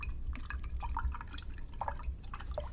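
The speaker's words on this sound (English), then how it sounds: "I'll rinse it again." A paintbrush is swished and tapped in a water jar while rinsing off quinacridone magenta watercolor paint, giving soft close splashes and drips in quick irregular bursts.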